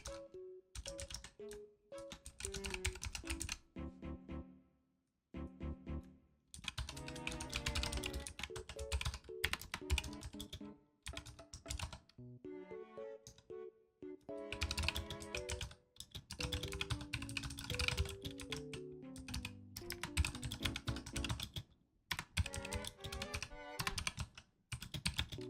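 Fast typing on a computer keyboard, bursts of close, crisp key clicks with short pauses between runs, alone with no talk.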